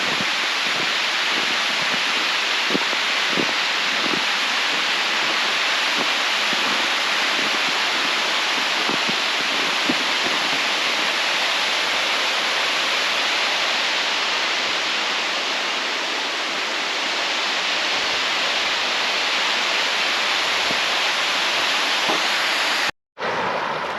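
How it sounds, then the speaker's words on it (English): Water pours over a dam spillway at Second Dam in Blacksmith Fork Canyon, a steady loud rushing roar that runs unbroken and close, with no voices. "I just love the sound of running water."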